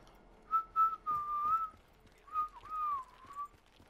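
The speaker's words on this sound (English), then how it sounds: "I can't whistle, really." A person whistling two drawn-out, wavering notes with a short pause between them, clear and close in a quiet space.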